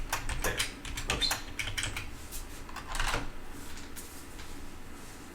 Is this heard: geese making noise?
no